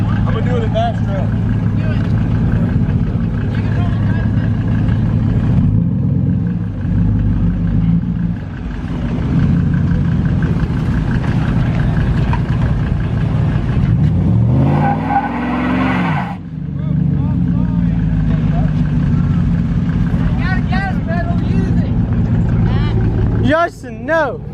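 A pickup truck at a truck meet does a burnout, its engine droning loudly and steadily with a surge of revving and tire noise in the middle, while people talk and shout over it throughout.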